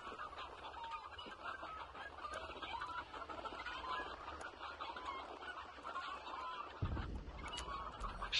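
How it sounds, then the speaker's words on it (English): Chickens clucking in a PS4 video game, a dense, busy stream of clucks and fowl calls throughout, with a brief low thump near the end. "The chicken's hella loud."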